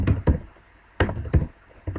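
Keys on a computer keyboard clack in small clusters of two or three close, crisp strokes separated by short pauses.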